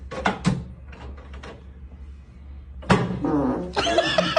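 A cat yowls and caterwauls in short, loud bursts from a played clip, with thumps and door-like knocks between the cries and a denser burst of noise near the end.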